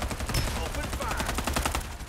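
Rapid machine gun fire in the Farlight 84 battle royale game, a dense, continuous stream of loud shots running the whole way through, with a voice faintly under it.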